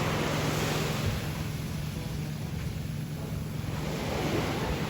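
Sea waves wash continuously onto a beach shore, a loud steady broadband roar with wind buffeting the microphone throughout.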